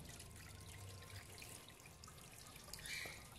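Water poured over the engine bay of a Chery Face car splashes and drips through a leak near the throttle body, a quiet, faint trickling with scattered drips and no speech.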